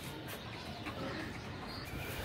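Soft, low pigeon cooing repeating in the background amid a noisy, hissy rooftop ambience, with a few faint chirps.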